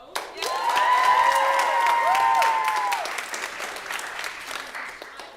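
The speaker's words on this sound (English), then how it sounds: "Let's have a round of applause for our director, Joe." An audience bursts into applause, loud and sustained for a few seconds before tapering off, with a few voices and cheers mixed in.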